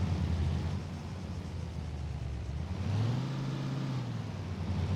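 Engine hum of a vehicle driving in the military game Arma 3, a steady low drone with a rising pitch sweep near the end as it speeds up, continuous and fairly quiet with no talking.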